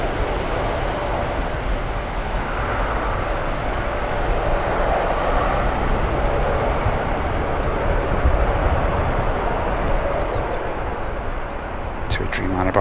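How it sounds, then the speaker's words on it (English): At Manchester Airport, a Dreamliner airliner rolls for takeoff from runway 23 left, its jet engines producing a continuous broad roar that holds steady and swells slightly. "Dreamliner about to rotate from 2-3 left."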